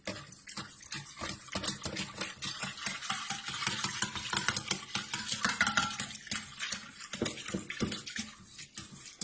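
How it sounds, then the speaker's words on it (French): Yeast being stirred and dissolved into liquid for homemade bread dough, giving a steady wet swishing and sloshing that runs continuously for the whole stretch, close and fairly loud with no voices. "on mélange, on la délaye"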